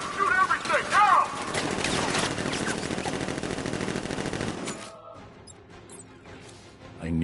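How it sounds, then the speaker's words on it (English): Guards open fire in Batman: Arkham Knight, a long continuous rattle of automatic gunfire with crashes and impacts, loud and dense, then cutting off into quieter game sounds near the end. "Guard! Open fire! Shoot everything! Now!"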